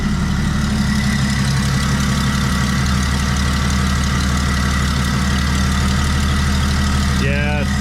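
A 1995 Jeep Wrangler 4.0 engine runs at a steady idle with a loud, continuous low rumble, close by and without a break.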